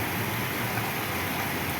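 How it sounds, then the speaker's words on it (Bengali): Heavy rain falls outside an office in a dense, even hiss that continues without a break, with no talking over it. "আসলে প্রচুর বৃষ্টি হয়ে যাচ্ছে"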